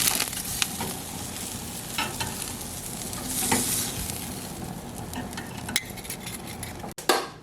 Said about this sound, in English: because the steaks are already cooked, we're just adding the sear.